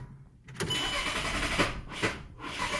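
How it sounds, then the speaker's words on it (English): Car engine running rusEFI direct injection, untuned, cranking and catching unevenly with sharp kickback bursts, then faltering as it struggles to stay running, loud and close with no talk. "it's not starting always, but sometimes it does, and then it dies"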